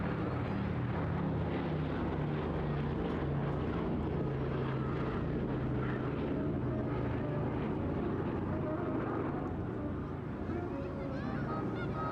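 Boeing B-17 bomber Sally B flying at an airshow, its piston engines making a steady, dense drone that holds loud and continuous throughout with no speech.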